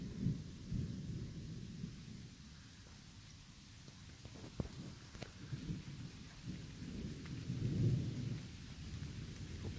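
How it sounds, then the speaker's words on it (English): A thunderstorm on a tornado-warning afternoon brings steady rain pattering on surfaces and low rolling thunder that swells and fades, all faint and distant with no one talking. "It's raining."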